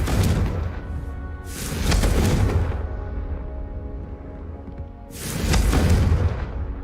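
Two loud, booming blasts from the Confringo explosive spell in the Hogwarts Legacy video game, each with a long rumbling tail, separated by a few seconds of quieter low hum.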